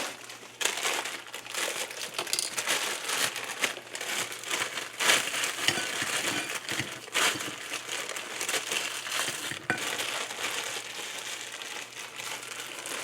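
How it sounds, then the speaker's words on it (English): Frozen broccoli and cauliflower florets poured into a dish, giving a continuous crinkly rattle of hard frozen pieces tumbling and clattering, steady and close for the whole stretch with no talking. "I am just going to put some frozen broccoli in here"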